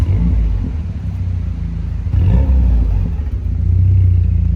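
Renault Megane 3 RS engine starting up, a loud low rumble with a clattering catch midway before settling into a steady, slightly rising idle close by.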